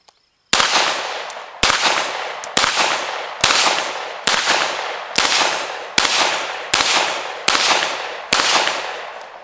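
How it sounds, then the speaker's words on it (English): A pistol fires unsuppressed, nine sharp, loud reports in a steady rhythm about a second apart, each crack followed by a short decaying ring, with no talking. "I'm going to show you what this thing barks without a suppressor"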